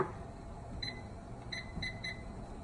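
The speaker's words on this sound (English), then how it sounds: "Set my timer." A kitchen timer set while spaghetti cooks, giving four short faint electronic beeps at uneven intervals over quiet kitchen background.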